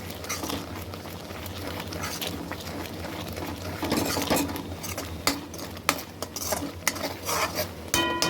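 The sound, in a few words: stirring cooked lentil dal with a ladle in a pot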